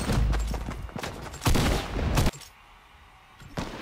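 Gunfire from the video game Fortnite: a loud, dense run of rapid shots and impacts in the first half, then a quieter stretch with one more burst near the end; no talking.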